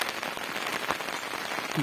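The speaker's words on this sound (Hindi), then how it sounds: "बहुत बारिश हो रही है, बहुत तगड़ी।" Heavy morning rain pours steadily on nearby surfaces and leaves, a dense, even patter of drops throughout, loud and close with no voices.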